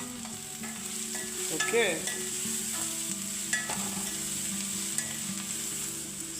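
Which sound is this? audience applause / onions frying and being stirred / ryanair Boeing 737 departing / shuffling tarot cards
onions frying and being stirred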